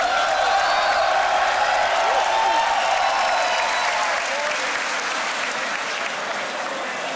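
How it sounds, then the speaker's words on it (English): A crowd at a beatbox battle claps and cheers in dense, sustained applause that slowly tapers, with a few whoops and whistles rising out of it. "Make some more noise. Give it up for Koei one more time."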